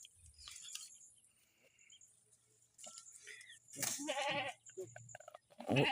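A few local Bangladeshi goats bleat close by on a goat farm in short, wavering calls amid quiet pauses and scattered handling noises as they are unloaded.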